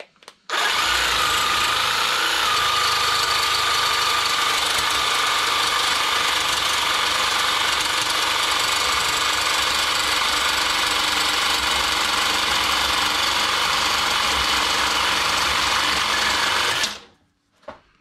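A Parkside cordless reciprocating saw cuts steadily at close range, a loud continuous buzzing motor drone with rapid blade chatter that holds unbroken for about sixteen seconds before stopping abruptly.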